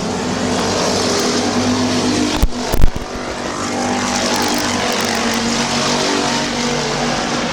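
Race cars roar around the Midvale Speedway oval on the final lap of a feature race: a loud, continuous engine drone with a sharp burst of bangs partway through.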